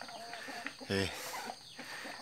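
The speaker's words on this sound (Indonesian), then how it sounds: "Lagi ngempanin ayam, banyak banget ayamnya." A large flock of around fifty village chickens clucking and squawking while being fed, one loud close squawk standing out amid scattered background clucks.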